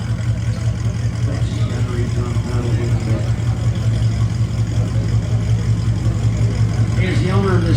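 A car engine runs steadily while driving through a public auto auction lot, a continuous low hum with slight revving near the end, with voices talking over it.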